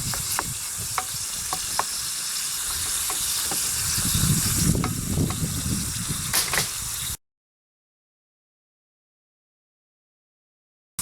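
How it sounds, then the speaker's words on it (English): Onions frying in butter in a small mess kit pan over a camp stove, a close steady sizzle with occasional ticks and stirring scrapes, then sudden silence. "we're going to cook the onions in the butter"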